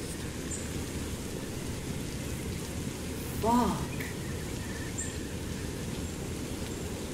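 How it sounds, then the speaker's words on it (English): Rain falls in a steady, even hiss close around, with a brief curse from a man cutting in midway. "Thank God for the rain at least."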